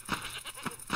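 Three short bleats from a small goat in a goat simulator video game, evenly spaced within a second, each a nasal voiced cry, fairly close and moderately loud with no talk.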